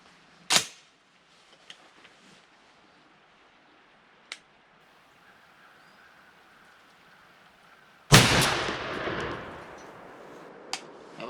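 A single loud, sharp blast from a TriStar Raptor 20 gauge shotgun firing Winchester Longbeard turkey loads through a Carlson's Longbeard choke, with the report ringing and decaying outdoors after a quieter click earlier.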